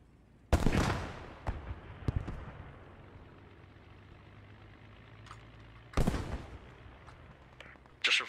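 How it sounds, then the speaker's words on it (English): Explosions from the Post Scriptum war game boom in two heavy blasts a few seconds apart, each followed by a rumbling decay, with scattered sharp gunshots in between and another burst at the end. "Things are exploding."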